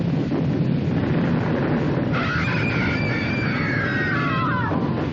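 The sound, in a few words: permanent thunder-like rumble in film The Poseidon Adventure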